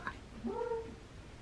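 A single faint cat chirp, a brief rising trill in a quiet room, with nothing else around it.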